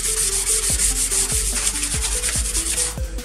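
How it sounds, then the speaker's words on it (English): Very fine sandpaper is rubbed along a plastic grille on a Cummins truck: close, scratchy back-and-forth strokes in a steady rhythm, with no talking. "This is some super light sandpaper."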